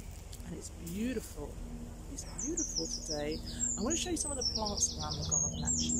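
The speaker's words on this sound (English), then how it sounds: "You can hear the birds singing." Birds chirping and singing in a garden in April, with several quick tweets and short trills at mid distance, heard beneath someone talking throughout.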